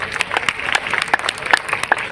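Clapping from a gathered audience, uneven and moderately loud, with a few sharp individual claps standing out over a murmur of voices.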